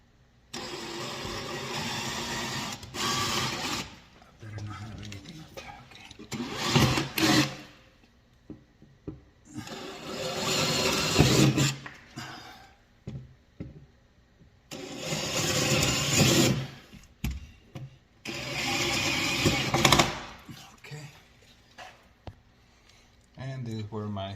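A power tool cuts holes at each corner of a square vent outline for a microwave installation, running in four loud, harsh bursts separated by quieter pauses.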